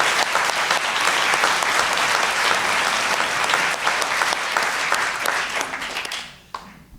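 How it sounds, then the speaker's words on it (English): Sustained audience applause for the first four storytellers at a live storytelling show, dense and steady clapping filling the room before tapering off near the end. "Can we just give up a round of applause for the first 4 storytellers"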